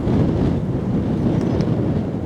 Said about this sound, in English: southwesterly, which is where the wind's coming from